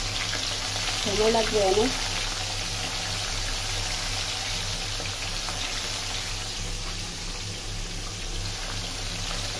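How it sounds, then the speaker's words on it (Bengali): Fish frying in hot oil in two pans on two stoves sizzles steadily and loudly right up close throughout, with a brief voice speaking early on over the constant crackle. "2 চুলায় মাছ ফ্রাই করতেছি"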